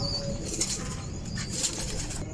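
A Pakistani Teddy pigeon flaps its wings in two quick bursts of whirring feather beats, close and fairly soft against a faint background hiss.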